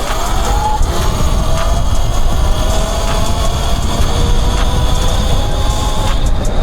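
An E-Ride Pro 3.0 electric bike pulls away in eco mode, giving a continuous motor whine that climbs in pitch as it accelerates over heavy wind and road rumble.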